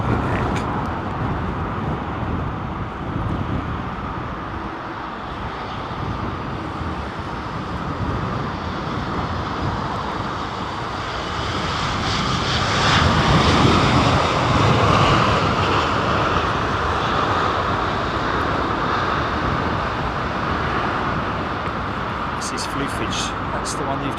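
Emirates Airlines airliner at London Heathrow, a sustained broadband jet roar that swells to a peak near the middle and then eases off, with a voice talking over it.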